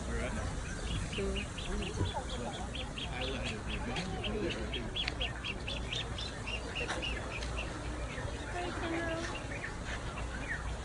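Birds at San Diego Safari Park call back and forth, with repeated bright chirps and some quacking over a busy outdoor background, while voices murmur faintly.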